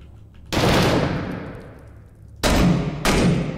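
Gunfire in the urban combat video game Six Days in Fallujah: three loud, close bursts, each with a long reverberant decay, the first standing alone and the last two following in quick succession.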